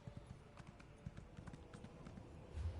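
Faint horse hooves clip-clop in a steady trotting rhythm in the video game Elder Scrolls Online, soft and low under a dull background hum, with no voices.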